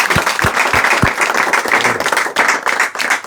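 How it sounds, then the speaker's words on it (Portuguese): Audience applause at a company launch event in Portugal, a few distinct individual claps at first swelling into steady, dense clapping from the crowd for a few seconds. "uma salva de palmas para o João"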